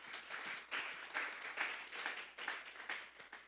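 A church congregation gives the Lord a strong round of applause during a service, a steady wash of many hands clapping at moderate distance, rising and falling in dense bursts with no voices over it.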